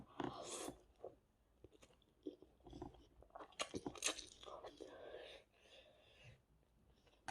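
Someone eats Chapagetti noodles close to the mic, with soft chewing, biting and crunchy bites, mixed with quiet whispered talk.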